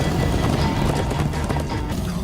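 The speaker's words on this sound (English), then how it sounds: "Come on, horses!" Horses gallop in the Minecraft Story Mode video game, a quick continuous patter of hooves under a rushing, noisy game soundtrack.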